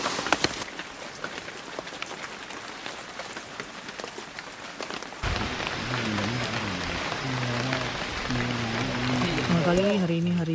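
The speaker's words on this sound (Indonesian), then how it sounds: "Cuacanya hujan" Rain patters steadily on a campsite high on Bukit Raya mountain in Indonesia, a dense crackle of drops on surfaces, with a person talking over it in the second half.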